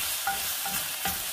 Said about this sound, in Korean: 볶아볼게요.